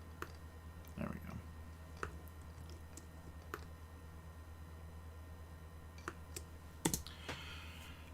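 Typing on a small computer keyboard, sparse quiet key clicks and occasional sharper taps spread across a faint, hushed room.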